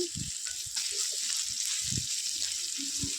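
Sliced pointed gourd (potol) fries in a pan with salt and turmeric. It gives a soft, steady sizzle broken by a few short clattering stirs, fairly quiet and close.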